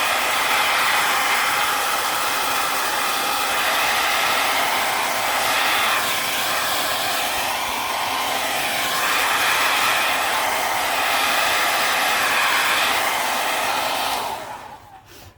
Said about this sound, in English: Let me dry this maybe a few seconds.